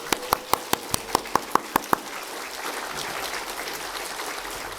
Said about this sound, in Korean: 크게 박수로 환영하겠습니다.